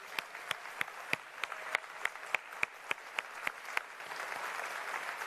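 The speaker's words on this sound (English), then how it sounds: "please give yourselves a huge round of applause" Sparse, slow clapping at an expo main stage gathering, a dozen or so distinct claps spaced roughly evenly, then fading into a faint crowd murmur; quiet and somewhat distant.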